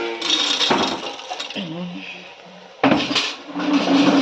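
Moong dal vadiyalu being stirred with ginger garlic paste in a pan, giving scraping clatters of a metal spoon against cookware in two bursts separated by a quieter stretch, with a voice talking briefly.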